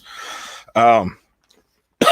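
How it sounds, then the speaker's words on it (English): A person gives a short dry cough, a harsh breathy burst followed by a voiced cough, then silence before another burst at the end. "I'm just coughing, dry cough"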